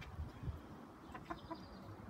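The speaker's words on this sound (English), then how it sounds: "Chickens want to come out, but the dogs are outside," Hens cluck inside their coop on a cold English winter day, with a few short, low clucks near the start and a couple of brief, higher calls later, close by and fairly soft with no talking.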